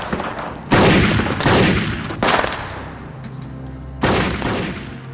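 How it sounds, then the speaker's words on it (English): Loud gunshots ring out during an FBI shootout, several heavy blasts spaced about a second or more apart, each trailing into a long echoing decay. "he continued to advance and fire"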